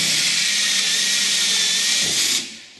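A power drill bores through a part of a homebuilt Affordaplane ultralight aircraft, giving a steady high-pitched whine for about two seconds before it quickly winds down and stops.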